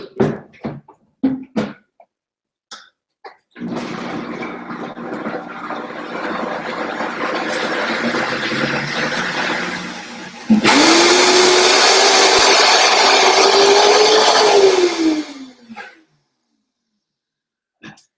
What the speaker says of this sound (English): So throw my lemon in there, and then I'll blend.